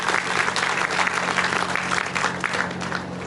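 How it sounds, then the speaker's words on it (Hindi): Audience applause in a lecture hall, a dense burst of loud clapping from many hands that continues steadily and then eases slightly. "जोर से तालियां बजाइए।"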